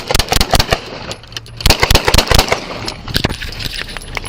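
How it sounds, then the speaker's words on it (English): Gunshots ring out during a police traffic stop, caught on a dashcam: a string of sharp, loud cracks in quick bursts, some clustered rapid-fire and some spaced apart, with shouting voices between. "481, shots fired."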